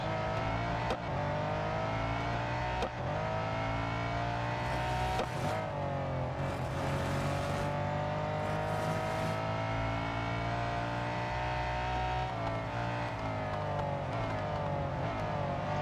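A Lamborghini race car in the Real Racing 3 video game, its engine droning steadily at high revs with gear changes and pitch shifts, loud and continuous with no voices over it.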